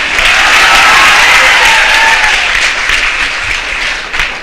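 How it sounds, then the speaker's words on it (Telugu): An audience at a spoken discourse breaks into loud, dense applause, many hands clapping at once, holding strong before gradually thinning toward the end. "మీరు చప్పట్లు కొట్టక్కర్లేదమ్మా"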